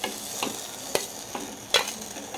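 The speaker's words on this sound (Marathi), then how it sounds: "आता याच्यामध्ये चण्याची डाळ मिक्स करते" Chana dal puran for puran poli being stirred in a pan, giving a few soft, irregular scraping strokes over a faint background hiss. The sound is close and quiet, with no voices.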